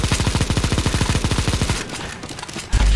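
Rapid automatic gunfire in the video game CS:GO Zombie Escape, a fast even burst of shots close and loud for nearly two seconds, then a sparser, quieter stretch with a thump at the end.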